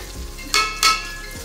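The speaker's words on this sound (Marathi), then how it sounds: "मस्त एकदम बारीक याच्यावरती परतलेला कांदा आणि टोमॅटो, त्याच्यामध्ये मी हा मसाला ॲड करणार." Onion and tomato fried with misal masala in a pan, a soft steady sizzle running throughout with two louder bursts of hissing as the masala goes in.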